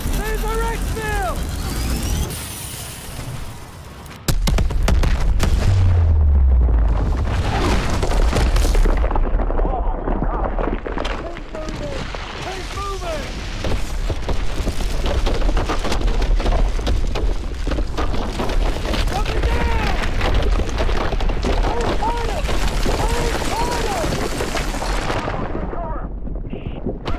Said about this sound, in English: We can't get near those turbine explosions.